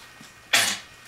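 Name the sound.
sneeze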